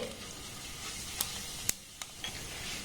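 Whole cumin seeds hit a hot pan of lentils being dry-roasted, giving a steady close-up sizzle and hiss punctuated by a few sharp clicks of stirring.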